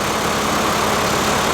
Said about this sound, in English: I guess people don't like listening to these rattling diesels anymore.